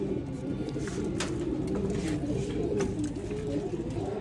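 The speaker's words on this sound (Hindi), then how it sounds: "इन भाई ने बहुत सारे कबूतर रखे हुए हैं" Many pigeons coo together in a continuous, overlapping murmur, close and fairly loud, with occasional faint rustling.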